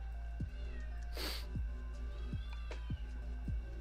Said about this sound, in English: Dude, I have the loudest cat in the world.